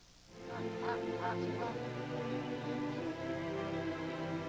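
Migrating birds honk in a repeated, goose-like chorus from the film Winged Migration, fairly faint over a steady tonal background.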